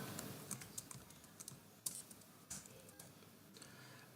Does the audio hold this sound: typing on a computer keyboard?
yes